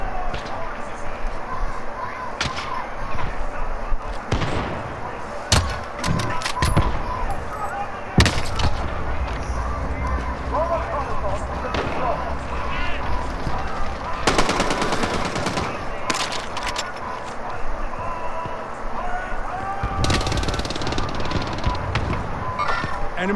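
Heavy gunfire in the Call of Duty Modern Warfare video game: bursts of rapid machine-gun fire and sharp shots come in clusters over a continuous battle din, with radio-style voices talking throughout.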